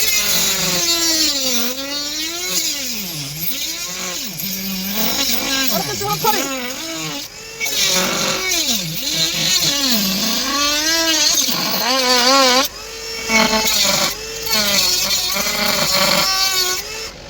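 Power saw with a worn, bad blade cutting and burning wood, a loud, continuous grinding whine whose pitch dips and rises as the blade bogs and recovers, with short pauses between passes.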